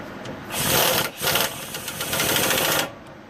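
An impact gun rattles in bursts as it tightens the lug nuts on a car wheel after a wheel bearing hub assembly replacement, a loud buzzing hammer close by, with a short pause between runs.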